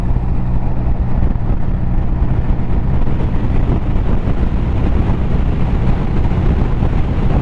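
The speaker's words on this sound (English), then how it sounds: "I'm going to 70 miles an hour, and then you'll hopefully hear the wind buffeting" Wind buffeting on a BMW R 1250 RT motorcycle at 70 mph, a loud, constant low roar and rumble of air battering the microphone, with no voice.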